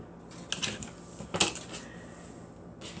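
Lined-up paper pieces being trimmed with a cutter make a couple of short, faint mechanical clicks and a crisp cutting stroke against quiet background, no talking.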